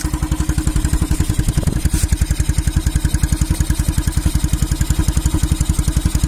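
A Honda CB Twister motorcycle engine idles close by with a fast, even, thumping beat and mechanical clatter, steady throughout with no voices; the bike has a fuel-setting problem and occasionally misfires.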